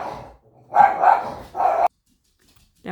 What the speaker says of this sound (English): That would be my dog barking at a squirrel.